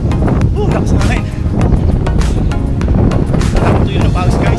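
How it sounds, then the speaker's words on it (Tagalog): Strong northeast monsoon wind roars steadily into the microphone during an outdoor jog, buffeting and rumbling throughout, with a person speaking briefly underneath. "Oo, rinig nyo. Lakas ng hangin."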